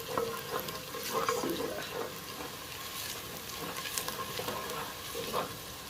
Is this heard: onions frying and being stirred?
yes